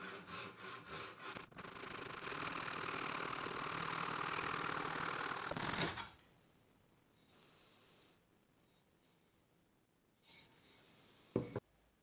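A Japanese flush trim saw cuts through a 35mm pine dowel in fast, continuous rasping strokes for about six seconds, then stops, leaving near silence with a couple of faint knocks.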